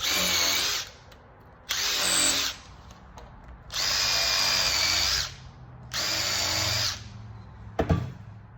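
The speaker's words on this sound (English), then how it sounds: "I'm going to pre-drill." A power drill whines in four bursts of a second or so each, pre-drilling into wood for a workbench, with short pauses between and a clunk at the end.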